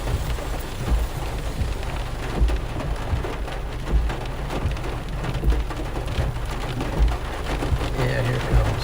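Heavy rain pounds steadily on a vehicle during a Nebraska storm chase, with low rumbles of thunder rolling underneath the continuous loud downpour throughout.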